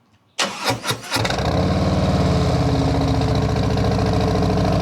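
A motorcycle engine fitted with a TAB 50 cal slip-on exhaust with zombie baffles cranks a few times, catches, and settles into a loud, steady rumbling idle close by, with a deep, throaty exhaust note and no talking.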